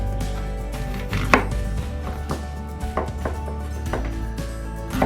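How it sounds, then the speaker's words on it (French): A knife finely slices an onion on a board, a rapid series of close, crisp chops under steady low background hum. "on va émincer notre oignon finement"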